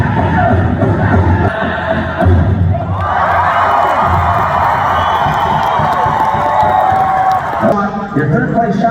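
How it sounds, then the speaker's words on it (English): A powwow crowd at the end of a dance-off breaks into loud cheering, whoops and applause, with the noise swelling in the middle and shouting voices mixed throughout. "a crowd erupted with applause at the end"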